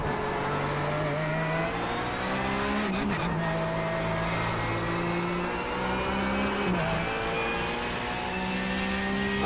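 A race car at high speed on a track, with a steady loud engine drone whose pitch climbs through the gears and briefly dips at shifts before rising again.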